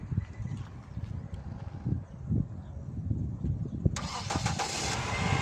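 A car engine is cranked with a cross jump starter and catches with a quick click and a rising roar near the end, after several seconds of low rumbling background noise, close by.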